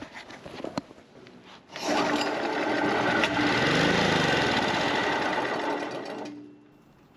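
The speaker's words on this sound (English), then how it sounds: "This will allow us to check if the engine will start." A seized generator's engine, its carburetor faulty, is pull-started and catches, settling into a loud, steady running drone that holds for about four seconds before cutting out.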